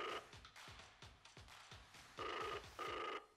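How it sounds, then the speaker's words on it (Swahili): A telephone rings on a live call-in game show broadcast, with two short, loud bursts of ringing near the end over a steady rhythmic ticking beat. "Simu inaita."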